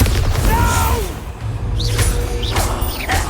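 A Bombarda spell blast in Hogwarts Legacy, a heavy low booming explosion with rumbling impact and swishing magical effects, loud and close, with brief sweeping tones over the top.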